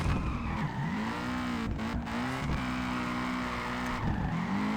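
Car tires squeal continuously as a drifting car slides at steep angles in the online drift racing game Peak Angle, with the engine droning underneath and the squeal pitch bending as the car shifts between angles.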